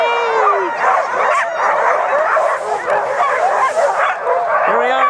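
A pack of sled dogs at Lake Tahoe barks, yips and whimpers excitedly before a dog sled ride, a loud, dense chorus of overlapping calls close by with rising whines, while people speak faintly.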